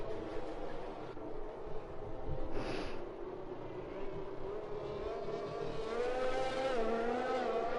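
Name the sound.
safety car driving past in a racing video game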